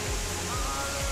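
The waterfall at Bhagsunag in Himachal Pradesh gives a steady, dense rushing roar that fills the moment evenly without pause.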